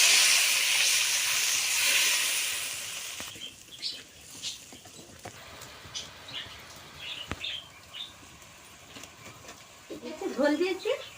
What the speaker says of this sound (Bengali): ঝালটা কষে নিচ্ছি, জল দিয়ে দেবো।